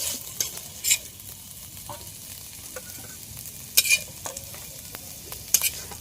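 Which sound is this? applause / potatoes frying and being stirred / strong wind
potatoes frying and being stirred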